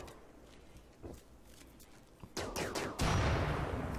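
Gunfire in the RimWorld Alpha 15c video game, with bursts of sharp shots building over the final second and a half after quiet ambience, ending in a louder, denser blast.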